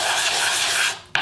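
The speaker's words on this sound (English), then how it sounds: "So I usually sand that with a piece of 220 grit sandpaper" A piece of 220-grit sandpaper rubs along the edges of wood to knock off fuzz, a loud continuous scrape that stops briefly and then resumes with a sharp stroke.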